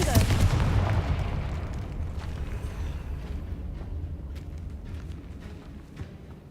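A Confringo fire spell blasts in Hogwarts Legacy, a loud booming explosion right at the start, then a rumbling tail that fades slowly under scattered crackles.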